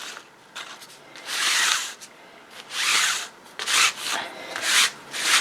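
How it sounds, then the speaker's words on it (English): A StazOn ink pad is rubbed back and forth across an old book cover, giving close, raspy scraping strokes in uneven bursts of about a second each, with no talking. "I'm just rubbing the ink pad across the top."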